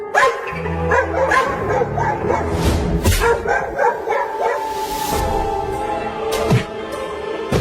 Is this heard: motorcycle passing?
no